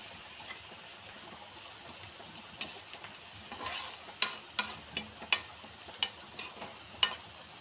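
Green chillies and onions fry in oil in a pan, giving a faint, soft sizzle under a series of sharp stirring scrapes and taps that grow more frequent toward the end.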